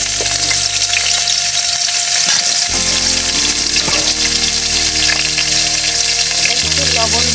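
Potatoes fry in hot oil for a duck curry, a loud, close, continuous sizzle with occasional stirring and a low background hum.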